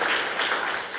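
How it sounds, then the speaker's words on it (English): A brief burst of full audience applause at a Michigan policy conference session with congressional leaders, with many hands clapping together in a continuous wash. "That deserves some applause."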